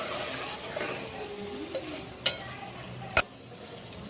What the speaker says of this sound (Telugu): కొంచెం కారం, కొంచెం ఉప్పు వేసుకొని బాగా కలుపుకోవాలి